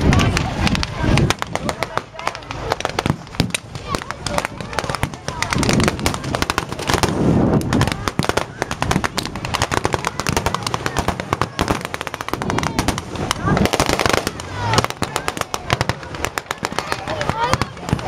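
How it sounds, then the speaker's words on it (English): Automatic weapons fire from a half-track during a WWII battle reenactment at an outdoor victory show, loud dense bursts of rapid shots and bangs going on without a break, with crowd noise and talk mixed underneath. "the automatic weapons on the half-track laying down and covering fire as we disembark"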